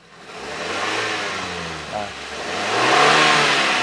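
A 2021 Suzuki New Carry pickup truck's engine revs up twice, rising and falling, with idling between the bursts.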